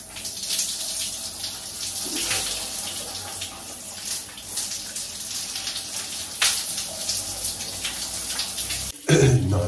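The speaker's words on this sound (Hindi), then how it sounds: "so let's go take a shower" Shower water runs steadily in a continuous hissing spray up close, with a brief louder splash and shift in the flow near the end.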